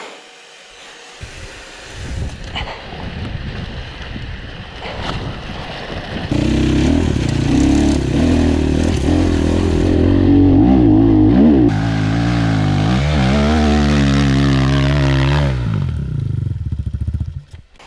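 A Honda 450X dirt bike engine on a hill climb, idling roughly and then revving hard in a loud, sustained, close drone that rises and falls before cutting off, with no talk.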